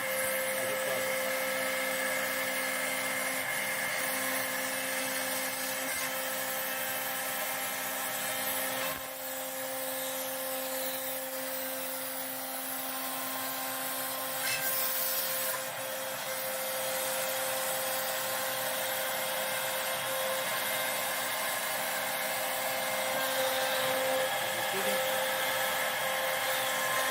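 A CNC-driven trim router mounted in a table makes a reverse finishing pass, taking off a tenth of a millimetre, and gives a steady, unbroken high whine throughout.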